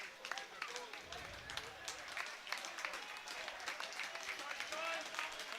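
Falkirk football supporters applaud their players off the pitch after a 1-1 draw at Dumbarton, a steady crowd clapping heard at a distance beneath a commentator's voice.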